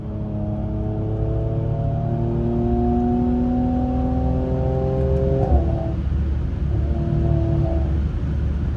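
A Mercedes C43 AMG cruises on an open highway at night, a steady engine drone from inside the cabin with rising tones as it accelerates and shifts, over constant road and tire noise, and no voices.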